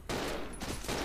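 Rapid gunfire from the survival horror game Resident Evil 0 HD Remaster, aimed at attacking spiders, sounds as a loud, dense burst that fills the moment without pause, with no talking.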